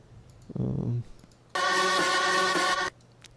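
A short mid-range voice-like sound, then a harsh, buzzy distorted synth tone holding loud for about a second and a half before cutting off.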